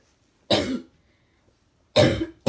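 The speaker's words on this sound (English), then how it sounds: "my cough changed." Close, loud coughing from someone sick at home in bed: two harsh coughing bursts about 1.5 seconds apart, the second followed by a quick third burst, in an otherwise quiet room.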